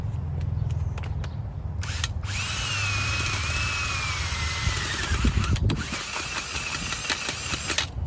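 A power auger drills into garden soil to dig a planting hole for tomatoes, whirring loudly and steadily with a high-pitched whine, then grinding and thumping as it works deeper, close by and with no talking.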